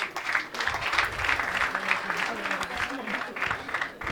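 A live audience claps in a dense, uneven wave of applause that swells and dips, with a voice talking over it at times.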